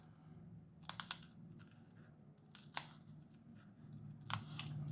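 Small scissors snip a strip of false eyelashes being customized, with a few quiet, separate clicky cuts in groups against a soft background hum.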